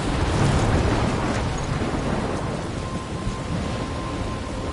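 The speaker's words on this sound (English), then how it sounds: "I'm trapped in a storm?" A thunderstorm with heavy rain and wind in the video game Life is Strange. Thunder rumbles low beneath a constant roar of rain, loudest at the start and easing slightly while staying dense and enveloping throughout.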